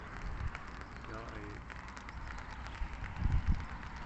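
Light rain patters steadily over a canal during a fishing trip, a soft continuous hiss with a few louder thumps near the end.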